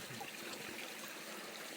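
Bear Creek on the Colorado Trail near Waterton Canyon flows with a soft, steady trickle of water, faint and continuous, with no voices.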